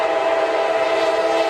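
Train with a sustained horn or whistle blaring loud and steady over rumbling rail noise.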